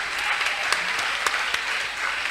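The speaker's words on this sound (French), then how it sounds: "Est-ce qu'on peut acclamer pour cette belle vision?" A close, dense round of audience clapping at a French-language talk show sustains a steady roar of many hands, with a few louder individual claps and no voices on top.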